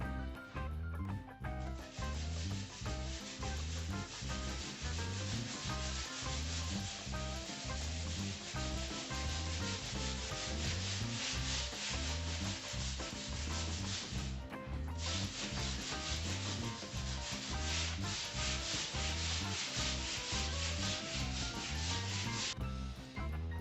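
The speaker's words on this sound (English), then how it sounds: "It's sanding, preparing the wall for plastering." Steady, continuous rasping of sandpaper on a wall being prepared for plastering after filler, with rhythmic back-and-forth strokes and a brief pause midway, close and alone.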